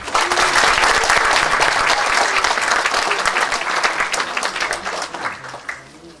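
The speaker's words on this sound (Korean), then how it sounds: "다 같이 박수로 한번 시작을 했으면 좋겠습니다" Members at an environmental group's 14th anniversary ceremony clap together in a dense burst of applause that stays loud and steady, then thins and fades out over about six seconds.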